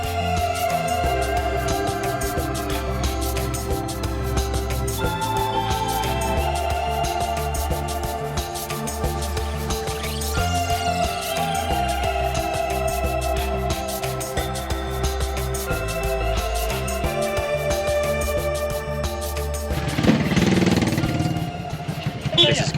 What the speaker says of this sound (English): There's so many Jeeps and the road is so small. They're all parked on the side. Motorcycles and people.